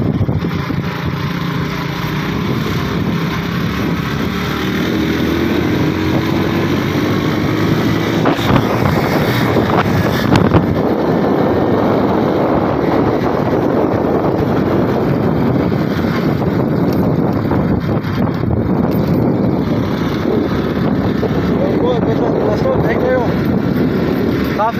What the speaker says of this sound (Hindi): मुझे आगे भी हवा लग रही है, तेज़ हवा लग रही है।